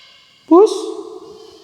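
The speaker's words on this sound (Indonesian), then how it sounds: "ada suara kucing guys" A cat meows once, close and clear, with a rising then falling tone that trails off, inside a large mansion on the slopes of Bromo.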